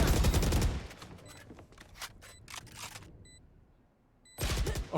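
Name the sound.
gunfire and sniper shots in the video game Valorant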